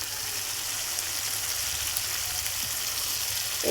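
Potatoes and pointed gourd with peanuts sauté in a pan, giving a steady, soft frying hiss that runs unbroken throughout with no voices.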